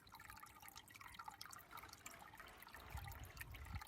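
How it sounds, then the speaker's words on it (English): Water trickles and drips from the centrepiece of a garden pond, a faint, steady babble close by, with no one speaking. "I love the sound of the pond."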